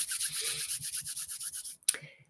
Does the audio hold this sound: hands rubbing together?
yes